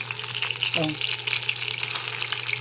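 Pork chop frying in a pan, a close, steady hiss and crackle of sizzling fat running throughout, with a brief clink of a utensil partway through.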